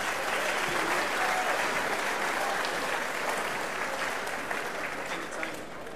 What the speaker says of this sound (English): How about a round of applause for their efforts?